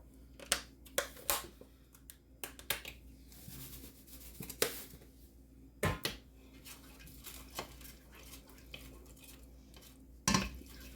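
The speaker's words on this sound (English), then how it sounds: "Just give them a quick stir, the onions." Onions are stirred in a pan with a utensil, giving scattered scraping clinks and knocks at irregular intervals over a quiet kitchen background.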